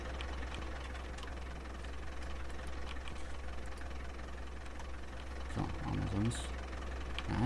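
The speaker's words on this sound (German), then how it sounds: "Oh, mein Traktor rollt." Tractor engine in Farming Simulator 19 running with a steady low idling drone and knocking rumble throughout, with a few light clunks near the end.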